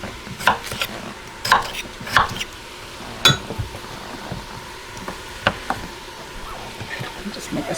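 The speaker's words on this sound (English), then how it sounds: "Just make a stir here." Spoon stirring ham and bean soup inside an Instant Pot pressure cooker, with a scattering of light scrapes and clinks against the metal pot, close and moderate in level.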